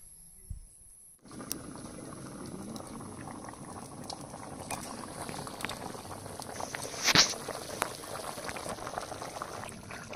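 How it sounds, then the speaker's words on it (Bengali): A spicy papaya duck curry boils in a pot over a wood fire, starting after a moment of near silence as a soft continuous bubbling and gurgling with occasional pops and a brief clatter, close and fairly quiet. "তরকারিতে জল দিয়ে দিয়েছি, এবার কাঠের জালে ফুটিয়ে নিতে হবে খুব সুন্দর করে"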